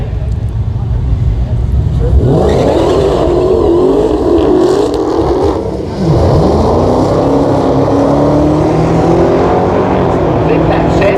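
Supercharged V8 Dodge Hellcat and Demon cars roar loudly as they accelerate at a Mopar car gathering, engines rising in pitch with supercharger whine, while someone talks over the noise.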